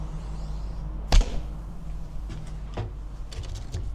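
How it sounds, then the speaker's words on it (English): A single sharp twang and thwack of an arrow leaving a 20-pound bow, followed by a faint distant thud, against a quiet outdoor background. "First I shoot one with the old, with a 20-pound."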